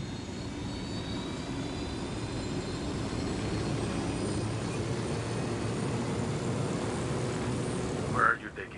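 Steady broadband drone of an aircraft flown by the player in Ghost Recon Wildlands, a continuous loud engine roar lasting throughout with a brief bump near the end.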